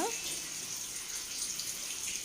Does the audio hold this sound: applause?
no